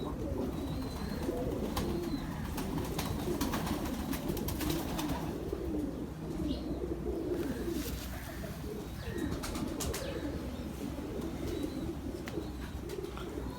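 Pigeons coo in soft, repeated rolling calls over a dense, steady background of flock murmur and rustling, with faint chirps here and there.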